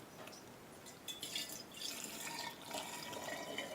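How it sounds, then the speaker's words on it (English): Chinese herbal drink poured into individual gin bottles, a steady liquid trickle and splashing that swells in bursts, fairly quiet and close with no talking. "We're just going to pour the Chinese herbal drink into the individual bottles, the original bottles that we use for the gin."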